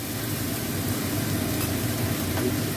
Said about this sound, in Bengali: লঙ্কা গুঁড়ো আর চিনি, এই দিয়ে আমি এখন কষবো এটা।